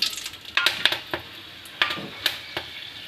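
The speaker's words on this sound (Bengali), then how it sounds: "ওই তেলে আমি মশলাগুলো দিয়ে দিলাম।" Whole spices dropped into hot oil while cooking egg pulao with Kaminibhog rice, giving quick crackling sizzles and sharp clinks of a utensil against the pan in short, uneven bursts, close and moderately loud, with no talking.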